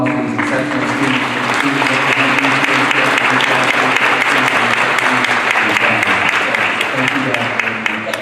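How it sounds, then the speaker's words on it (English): A school board meeting audience gives loud, sustained applause for students, dense clapping filling the room at close range, with a brief spoken word of thanks over it. "let's give one more big round of applause for these exceptional students"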